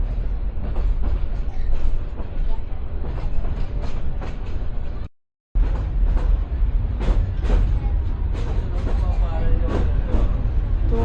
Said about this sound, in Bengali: আমাদের ট্রেনটা হচ্ছে রংপুর থেকে এখন ছাড়লো